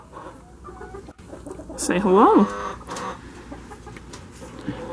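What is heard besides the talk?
chickens clucking in a coop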